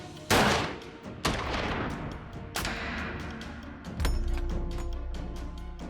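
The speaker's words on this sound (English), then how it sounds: "For its final exam, the rifle is calibrated for 100 meters. Five shots are fired into the target." Sniper rifle fired in a 100-meter calibration test, sharp loud gunshots ringing out at roughly one-second intervals, each with a reverberant tail, the last followed by a lingering low rumble.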